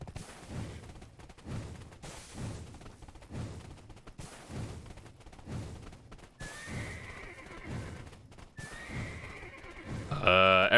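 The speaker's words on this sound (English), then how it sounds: "The reason why we got our unicorn to literally ride it and sprint in the desert" A unicorn mount in Black Desert gallops with steady, rhythmic hoofbeats and gives a loud whinny near the end, with game music or effects rising behind it.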